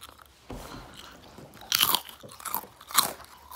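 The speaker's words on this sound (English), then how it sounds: "I like the texture of it, like the crunchy, how it crunches." Takis Waves chips crunched right at the microphone, a few sharp, crisp bites and chews in quick succession, loud and close against a quiet background.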